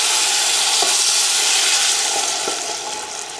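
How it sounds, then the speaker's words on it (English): Balsamic vinegar and beef broth hit a hot pot during a pot roast and sizzle hard, a loud, steady hiss right up close that eases off slightly toward the end. "add my wine, which as we will recall is the balsamic vinegar, and the broth"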